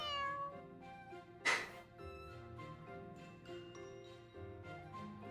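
A cat meows repeatedly while eating in the video game Fire Emblem: Three Houses, short plaintive mews over soft game background music, with a brief chime partway through.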